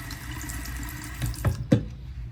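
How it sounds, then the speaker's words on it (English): Over a quiet background hum, a stream of water is poured onto fabric coated with liquid vinyl for bag making, arriving as a few short splashing bursts that grow stronger toward the end. "let's see the stream of water here."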